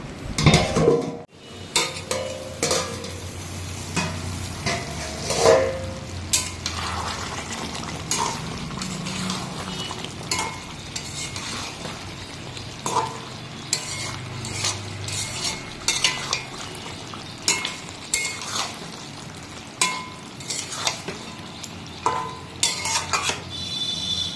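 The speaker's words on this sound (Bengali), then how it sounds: "এখানে দেখো মাংসটা না অনেকক্ষণ ধরে ঢেকে ঢেকে কষাচ্ছি এখনও অনেকক্ষণ কষাতে হবে" Goat meat with potatoes being stirred and sautéed under a lid in a pan: a spoon scrapes and clinks against the metal in irregular bursts over a low, steady sizzle, close and moderately loud, with no talking.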